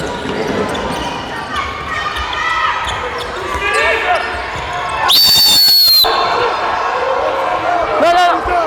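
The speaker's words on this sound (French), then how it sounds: "nous on va continuer à siffler" During a handball match, a referee gives one sharp, loud whistle blast lasting about a second, with a shorter whistle after it, among ball bounces, court noise and people talking.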